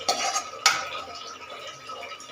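Almonds and raisins frying in ghee, stirred with a metal spoon in a pan, with a few sharp scrapes and clinks over a soft, low sizzle.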